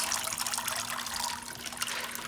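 Water draining from a plant container of leca, a soft steady trickle and splashing with faint dribbles, heard alone and fairly quiet.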